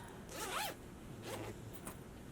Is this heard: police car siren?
no